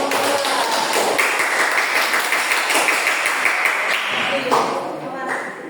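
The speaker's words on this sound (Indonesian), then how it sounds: "Oke, tepuk tangan dulu." Students clapping together in an Islamic religious education classroom lesson, a continuous busy patter of hands with voices talking over it and a few sharper claps near the end.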